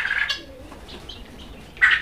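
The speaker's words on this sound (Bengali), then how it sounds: "দেখতেই পাচ্ছেন আমার কোয়েল পাখিগুলো কি সুন্দর।" Japanese quail on a farm give sharp chirping calls, one burst at the start and another near the end, with softer cheeps between, heard fairly close over quiet background.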